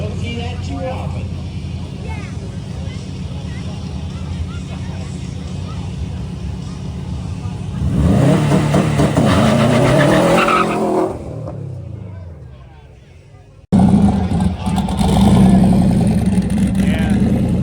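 A Subaru all-wheel-drive car accelerates hard at a rally checkpoint, its engine roaring loudly and rising in pitch before fading, then surging again close by, with people talking over it.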